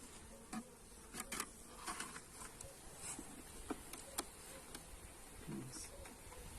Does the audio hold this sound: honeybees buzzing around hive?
yes